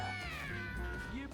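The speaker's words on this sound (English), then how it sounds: "Oh my gosh, this cat is crazy." A single drawn-out, wavering cat meow from the game Mewgenics, loud and close, sliding down in pitch over about a second.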